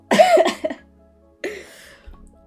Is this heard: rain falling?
no